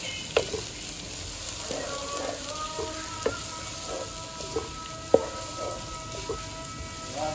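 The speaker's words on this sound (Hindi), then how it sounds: "प्याज हैं वो अच्छी तरह से इसमें फ्राई हो चुके हैं, भुन चुके हैं।" Onions frying in ghee in a pan until golden brown for baingan bharta, a continuous close sizzle with occasional sharper pops and soft utensil clinks as they are stirred, no voices.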